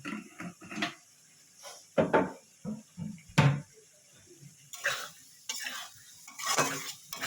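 Eggplant and potato being stir-fried with sugar in a pan: repeated loud scrapes and clinks of a spatula against the pan in irregular bursts, over a faint underlying sizzle.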